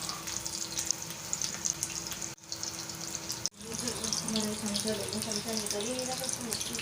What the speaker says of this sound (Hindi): ऑयल गरम हो चुका है, अब हम इसे फ्राई करेंगे।